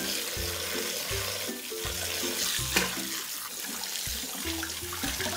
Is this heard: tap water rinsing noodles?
yes